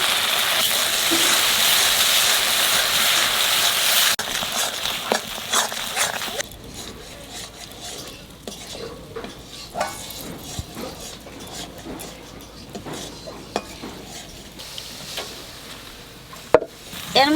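Coconut and mustard paste hits a hot pan for dab chingri, a prawn dish cooked in green coconut, with a loud broadband sizzle for about six seconds. Quieter stirring and scraping follows, with occasional sharp knocks.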